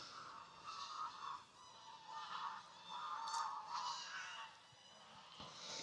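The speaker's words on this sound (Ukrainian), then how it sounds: "Гуси активізувалися." A flock of geese on the Seret River in autumn honk repeatedly in overlapping, nasal calls, moderately distant and continuous over soft outdoor background noise.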